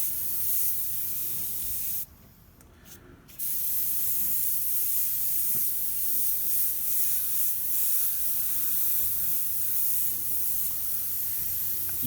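An airbrush hisses steadily as it sprays paint through a dryer sheet used as a texture stencil, with a short pause after two seconds before the continuous spray resumes.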